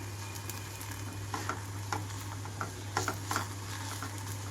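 A rice flour dosa made with sour buttermilk, Andhra style, fries in oil on a pan with a steady close sizzle over a low hum, broken by soft pops and spatters as it cooks.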